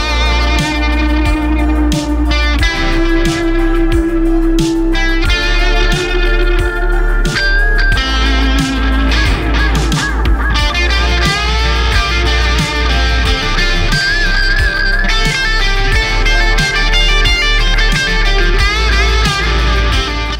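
An electric guitar played through an Ibanez TS Mini overdrive pedal, drive set low and tone turned up, gives a steady, loud, bright and slightly gritty stream of chords and notes with no pauses or talking.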